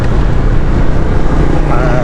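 Strong wind roars steadily against the microphone on a moving motorcycle ridden toward Gombak, a constant loud buffeting with no pauses.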